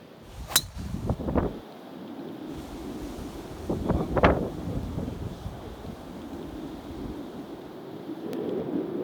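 Wind blowing outdoors on a golf course: steady low rumbling wind buffeting the microphone, with a few louder gusts swelling and fading over the clip, and no talk.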